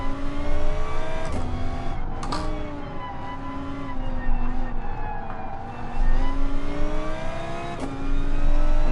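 Gr.4 and Gr.3 race car in Gran Turismo Sport lapping Brands Hatch or Willow Springs, engine droning loud and continuous with pitch rising and falling through gear shifts, a few sharp clicks from paddle shifters cutting through.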